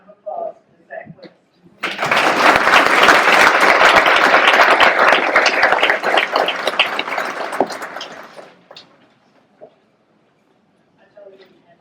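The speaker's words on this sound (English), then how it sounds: "Please give a round of applause to Zach West." A gala audience gives Zach West a round of applause: dense clapping swells in, holds strong for several seconds, then fades away. Brief speech comes before and after.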